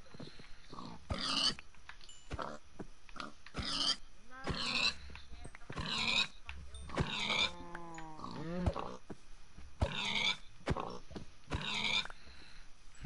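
Pigs grunting and squealing in Minecraft as they are killed, short repeated oinks and squeals spaced through the stretch alongside game sounds, with no talking over them.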